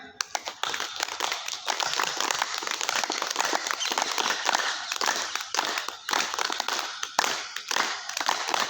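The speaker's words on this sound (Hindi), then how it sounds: "जोर से बजाइए तालियां" An audience at an outdoor yoga camp in Nivaru, Jaipur claps loudly and continuously, a dense crackling patter of many hands that keeps going for several seconds.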